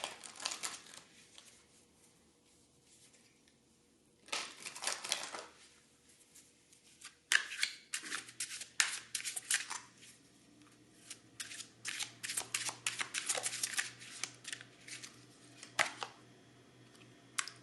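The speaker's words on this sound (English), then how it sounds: "we're going to get one more oracle card." Oracle cards are shuffled in bursts of crisp riffling and flicking, close and quiet, with a short shuffle early, a longer one midway and near-continuous shuffling after, plus a faint low hum in the background.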